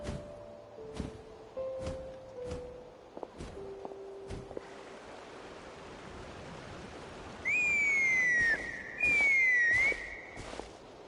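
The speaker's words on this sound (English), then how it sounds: "from the sound of her whistling" A character in the Genshin Impact video game whistles a bright two-note tune, with loud rising and falling whistles near the end, following footsteps crunching over a steady outdoor wash of ambient noise.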